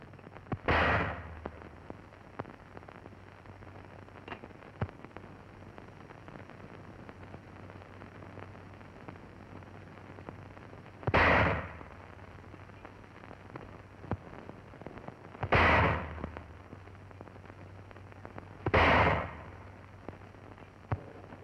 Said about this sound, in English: Here the crew is firing the 7-pound anti-personnel shell.